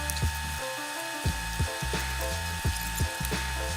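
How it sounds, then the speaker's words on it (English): A driver with a 3mm hex bit unscrews the deck screws of an Apollo Phantom V3 electric scooter, giving a series of short scraping turns and clicks under a steady background hum. "use a 3mm hex bit and take the deck off"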